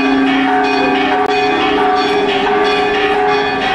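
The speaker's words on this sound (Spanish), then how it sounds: "Escuchen esas campanas, qué lindo sonido." Church bells at a sanctuary ring continuously with rich, overlapping tones, loud and close, with no voices.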